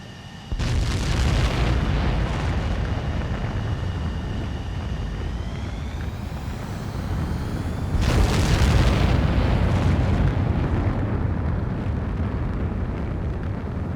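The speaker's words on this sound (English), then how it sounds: "Mage 2, begin takeoff sequence. You're cleared for launch." Jet fighter launching in Ace Combat 7: Skies Unknown, a loud sustained engine roar with a rising whine that surges again into a heavy blast midway and keeps thundering, no voices.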